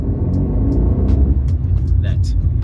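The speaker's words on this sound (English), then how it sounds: "I hope the video is picking up how loud the car is" Steady, loud low-frequency road rumble and engine drone inside a Fiat 500 Cult city car while driving, constant throughout with a few faint higher clicks and tones over it.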